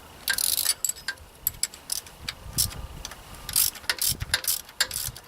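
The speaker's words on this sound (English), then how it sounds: "put my wrench on this end and the socket and ratchet on this end, and go ahead and take this screw off, this bolt out." Ratchet wrench clicking in short bursts while a bolt is worked loose on a John Deere 4105 compact tractor, close up with metallic clanks between strokes and no talking.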